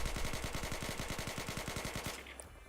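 Rapid automatic M4 rifle fire in a video game with uncontrolled recoil, a steady even stream of sharp shots for about two seconds, then it stops and leaves a faint tail.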